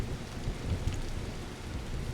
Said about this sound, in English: I almost just got struck by lightning.